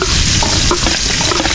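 Garlic frying in oil with onion and chili in a pan, a steady loud sizzle with soft stirring scrapes throughout, no talking.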